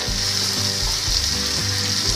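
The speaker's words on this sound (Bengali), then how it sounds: "ভালো করে এটাকে মেশাবো।" Raw jackfruit curry with turmeric frying in a pan, a loud, dense sizzle with a low rhythmic scraping as it is stirred, no voices.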